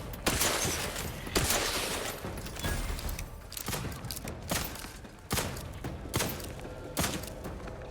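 Gunfight in The Outer Worlds: a string of sharp, close gunshots and thuds with several heavy bursts, rattling steadily through the whole stretch over a dense background of combat noise.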